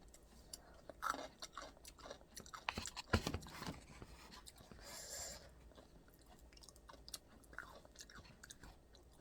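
Close, quiet chewing and crunching of very spicy food, with irregular soft bites and mouth sounds spread over several seconds, no talking.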